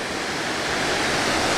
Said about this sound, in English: This is the Mill Falls, of course, and it's pretty nice little waterfalls.